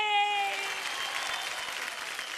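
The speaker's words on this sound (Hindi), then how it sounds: "तो हम तुम्हारे लिए इंडियन आइडल ताली करेंगे" Studio audience on the Indian Idol singing show bursts into dense, steady applause as a sustained musical tone fades out underneath, the clapping carrying on evenly to the end.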